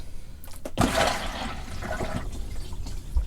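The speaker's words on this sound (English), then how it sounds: "And notice I flushed it with the lid down and then close the toilet." A motorhome toilet is flushed with the lid down: a sharp rush of water surges, then swirls and gurgles away, with a faint clunk near the end.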